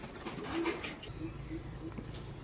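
A pair of colour-matched Giribaz pigeons coo softly in low, rounded pulses, close by against a steady background hum, with faint voices nearby.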